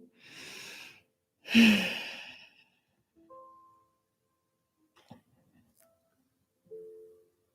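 Deep, audible breaths during a slow-flow yoga session: a long inhale and a stronger exhale in the first two seconds, then softer, fainter breaths and small rustles spaced through the rest.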